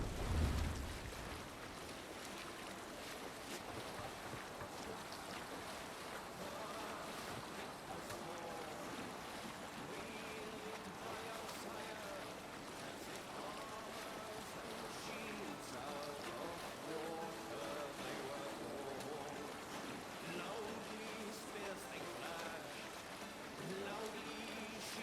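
A longship is rowed and sailed at sea in Assassin's Creed Valhalla, giving a steady wash of wind and waves with a faint rhythmic creak beneath it throughout, while voices call out from time to time.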